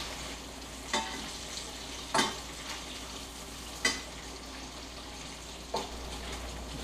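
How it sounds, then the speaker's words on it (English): Small batch of maple syrup boiling in a pot over an outdoor fire, a steady bubbling hiss broken by about four sharper crackling pops spaced a second or two apart, with no voices. "The old maple syrup's just cooking over there."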